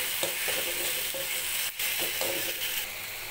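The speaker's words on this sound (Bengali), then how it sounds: "মশলাটা ভালোভাবে কষিয়ে নিচ্ছি।" Spices for a Bengali fish curry with papaya, potato and pointed gourd sizzle in hot oil while being stirred in a pan, a steady close frying hiss with soft scraping strokes.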